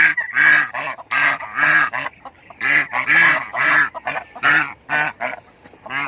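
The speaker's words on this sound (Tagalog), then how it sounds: "At ngayon mayroon na tayong alagang gansa." Domestic pet geese honking loudly and close by, a rapid series of about a dozen harsh nasal calls in quick succession with short gaps between them, heard alone without talk.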